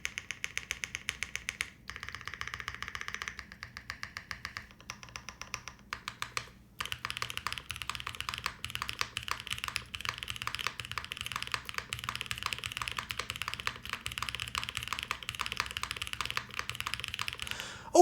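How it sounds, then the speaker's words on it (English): Close, steady typing on a Transition TKL mechanical keyboard, with deep, rapid keystroke clicks, a short pause partway through, then a long continuous run of typing and no voices. "Okay, the spacebar is not my favorite in the world, but I think it suits the keyboard and the way this sounds."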